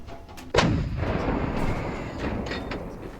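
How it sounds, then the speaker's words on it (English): A single loud cannon blast booms out, its sharp onset followed by a long rumbling decay that fills the rest of the moment, with no voices alongside. "Fire the cannon at least one more time."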